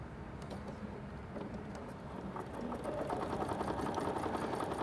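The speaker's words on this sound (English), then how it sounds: "I am going to sew with the line and the laser lining up." A Bernina B790 Ultra sewing machine stitching with a steady mechanical whir and rapid needle ticking that speeds up and grows louder halfway through, close and without talk.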